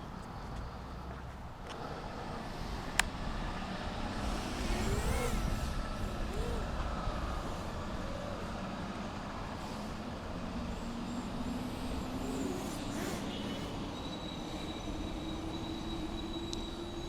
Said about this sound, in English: You can probably hear the cars and trucks and stuff more than the propellers.